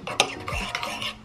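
A spoon stirring oat porridge with rice milk in a bowl, a few quick close scraping and clinking strokes against the dish, with no talking.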